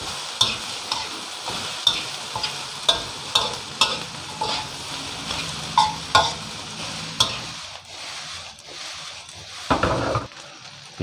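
Kale leaves stir-fried over high heat in a pan for kale fried rice with salted fish, a steady loud sizzle punctuated by regular scraping strokes of a spatula roughly every second.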